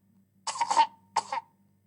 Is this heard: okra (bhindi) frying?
no